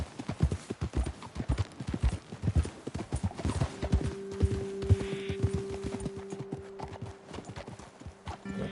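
Hooves clip-clop in a quick, steady rhythm as horses trot in Red Dead Redemption 2. The pace slows and thins toward the end while a low sustained tone hums underneath.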